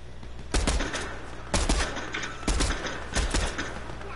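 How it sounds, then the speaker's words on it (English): Bursts of Fortnite gunfire come in four clustered volleys about a second apart, each a loud crackle of rapid shots over a low steady game hum, with no voices. "Oh, someone else is shooting at him now."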